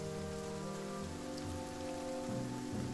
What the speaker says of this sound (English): The rain continues, and the caravan struggles to keep moving.